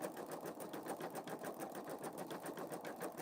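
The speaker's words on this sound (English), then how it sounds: "It's moving so fast now I can't see. Yes, it's stitching in rows." A Pfaff Creative Vision embroidery machine runs fast, stitching step-stitch rows with a rapid, even mechanical pulse, steady and fairly quiet throughout with no talking.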